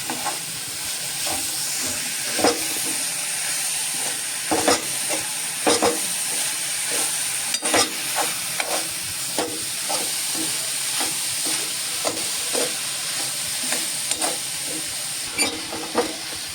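A spoon scrapes and stirs a thick sweet puran filling in a hot pan for Sindhudurg-style patole, with irregular scraping strokes over a steady sizzling hiss, close up and with no talk.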